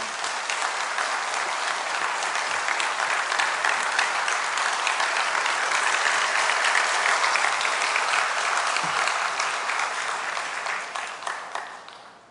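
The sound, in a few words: applause welcoming the pastor to the pulpit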